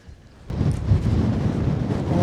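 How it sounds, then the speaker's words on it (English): Strong wind buffets the microphone in a steady low rumble, starting quietly then gusting loud after a moment and continuing without letup. "Oh, it is windy this morning."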